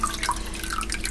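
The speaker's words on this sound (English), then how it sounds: "And then we are going to start pouring the water that has the dissolved rennet tablet in" Water with a dissolved rennet tablet is poured into milk for cottage cheese, a soft continuous trickle and splash heard close with no talking.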